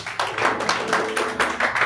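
A church congregation claps in praise of Jesus, a rhythmic, evenly spaced run of group claps at a steady beat, fairly close and loud, with no speech over it.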